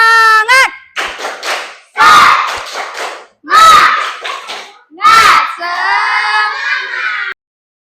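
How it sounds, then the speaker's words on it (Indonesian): A class of children performs a rhythmic spirit clap cheer, with loud bursts of claps and chanted voices in short patterned groups that end in a long shouted call. "Tepuk semangat."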